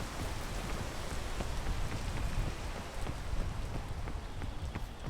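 Steady rain hisses in the Peak video game, a dense even wash of falling drops with faint pattering ticks, moderately quiet and without talk.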